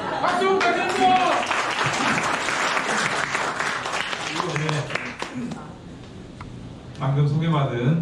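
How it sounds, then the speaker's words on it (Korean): A crowd at a Korean campaign committee closing ceremony in Incheon applauds loudly, with dense clapping that dips briefly and then swells again, while a speaker talks over it in places. "박수 부탁드립니다"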